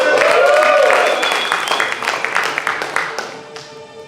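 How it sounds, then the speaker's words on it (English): A festival audience applauds, a burst of clapping that starts loud and gradually fades over a few seconds, with a voice heard over it. "Give us a huge round of applause."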